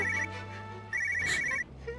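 A phone rings during a call placed on speakerphone, two bursts of a bright electronic ringtone with a short gap between them over a steady low hum, with no talk.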